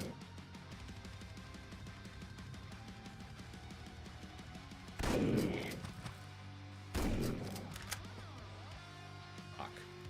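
Quasimorph video game gunfire, two loud heavy blasts a couple of seconds apart, each with a short noisy tail, over a steady low ambient hum.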